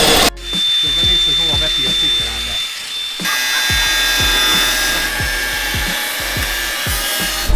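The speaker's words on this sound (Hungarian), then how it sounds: "Ez az a lényeg, a ponthegesztést fúrom el." A drill grinds steadily through spot welds in sheet metal on a BMW E46 drift convertible, its buzzing whine continuous and close, with rhythmic scraping pulses and a brief pause partway through.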